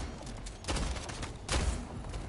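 Video game gunfire in the shooter Splitgate, a fusillade of rapid shots in two louder bursts over constant game noise, fairly muffled and mid-level.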